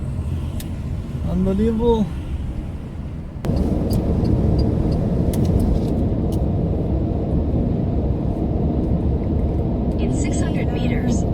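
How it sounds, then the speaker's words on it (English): Steady, loud road rumble of cars on a motorway between Germany and Milan, Italy, heard from inside an electric Renault, continuous throughout with a brief voice speaking early on. "those cars on the side there are very, very noisy"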